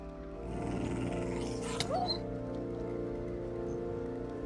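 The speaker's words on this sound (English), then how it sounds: "Let me get rid of these dogs." Dogs, Hailhounds from a modded Minecraft game, growl and snarl over steady game background sound, with one sharp yelp partway through.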